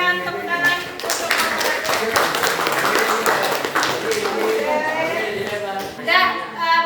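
Classroom applause for a presenting student group, a short burst of scattered hand clapping from a small audience with voices audible around it, fading then briefly returning near the end.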